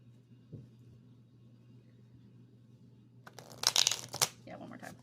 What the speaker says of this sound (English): Should I shuffle it one more time?